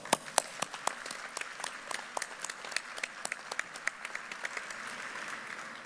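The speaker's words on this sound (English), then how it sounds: "Please join me in saluting our faculty with a round of applause." A sparse commencement audience gives the faculty a round of applause: scattered, distinct individual claps in an uneven rhythm, rather thin and fairly quiet, echoing in a large room.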